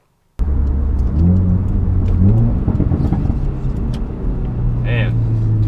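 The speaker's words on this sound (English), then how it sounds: "throwing in some nice accelerations and nice turbo whooshy sounds for you folks" A Subaru WRX engine starts up abruptly and pulls hard through rising revs, heard close from inside the car, with a brief high turbo whoosh near the end.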